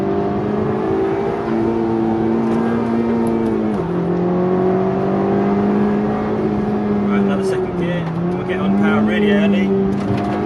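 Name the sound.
2015 Honda Civic Type R driving through a corner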